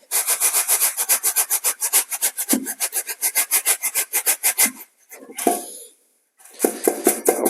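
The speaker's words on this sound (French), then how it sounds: "on cisaille le mortier, on le tire vers soi" A trowel shears and scrapes through mortar in rapid rhythmic rasping strokes, close and crisp, pausing briefly before the scraping resumes, with no voices.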